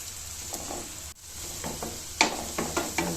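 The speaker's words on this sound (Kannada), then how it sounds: "ಇವಾಗ ಬೆಳ್ಳುಳ್ಳಿ ಮತ್ತು ಮೆಣಸಿನ ಪುಡಿ ಕುಟ್ಟಿಟ್ಕೊಂಡಿದ್ದೀನಿ ಅದನ್ನು ಈಗ ಈ ಒಗ್ಗರಣೆಗೆ ಹಾಕಿ ಸೇರಿಸ್ಕೊತಾ ಇದ್ದೀನಿ ಇದನ್ನು ಚೆನ್ನಾಗಿ ಫ್ರೈ ಮಾಡಬೇಕು" Crushed garlic and chilli powder fry in a hot oil tempering for spicy garlic rice, a steady close sizzle broken by a few sharper spatters and stirring scrapes.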